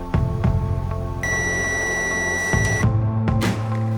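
An ANENG AN888S digital multimeter sounds its continuity buzzer as a steady high electronic tone lasting about a second and a half, set against a busy, noisy background with clicks.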